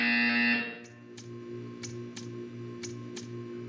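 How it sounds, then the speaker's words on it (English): A harsh, loud electronic buzzer from Portal 2 blares for under a second, then cuts off, leaving faint, evenly spaced ticking clicks over a low hum. "You will hear a buzzer."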